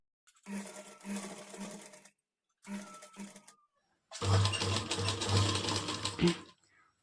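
A sewing machine stitches blouse neck piping at a quarter-inch margin in short bursts, two brief runs followed by a longer, louder stretch of rapid stitching close by.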